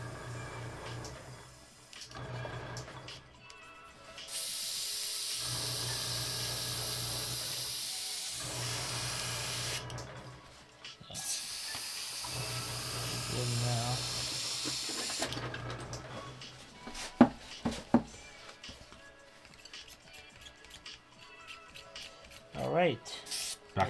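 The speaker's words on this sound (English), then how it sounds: "I love the airbrush." An airbrush spraying paint onto 1/32 scale figures gives a steady, airy hiss in two long bursts. Between and after them come quiet pauses, small clicks and handling noises.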